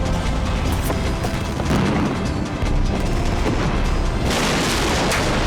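A power station being blown up in a demolition, heard as a loud, sustained blast roar and rumble that shifts in tone partway through.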